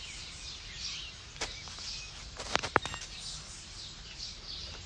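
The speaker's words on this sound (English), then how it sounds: "Y'all hear the birds chirping?" Faint bird chirps come through a steady outdoor hiss, with a few brief sharp calls clustered near the middle.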